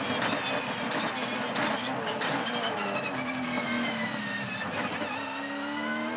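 Onboard a Supercars V8 race car at the Townsville 500, the engine revs hard and changes pitch through a run of gear shifts, loud and close throughout.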